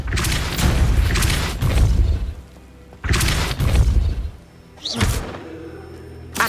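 A Depulso force spell from the video game Hogwarts Legacy strikes with heavy booming thuds, three loud impact bursts spaced a second or so apart, each trailing off into a low rumble, with no talk over them.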